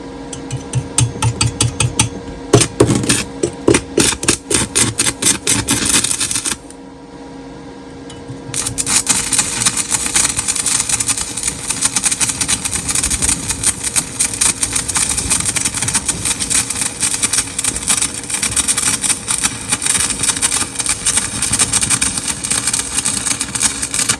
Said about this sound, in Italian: facciamo un cordone di saldatura qua all'inizio